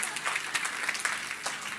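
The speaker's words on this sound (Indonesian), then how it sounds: "Pinter luar biasa, kasih tepuk tangan semua." Church congregation clapping together during a sermon, a steady dense patter of applause filling the room at moderate level, with a voice speaking faintly over it.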